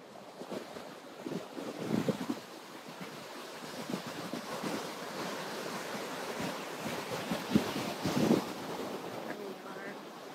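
Wind blowing over the beach at Cocoa Beach, Florida, on the Atlantic Ocean, a steady broadband rush with surf washing underneath and brief louder gusts buffeting the microphone, continuing for the whole stretch without talk.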